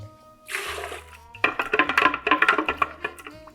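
Gin poured for a chocolate mint After Eight cocktail, following Cointreau and crème de cacao: a soft liquid hiss opens, then a close run of quick glugging splashes into a vessel, fairly loud and with no talk.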